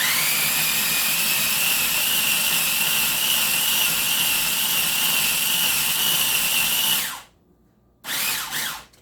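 Food processor chopping and grinding garlic lemon hummus, a loud, steady high motor whir running continuously, then stopping and restarting briefly in a short pulse at the end, with no talking.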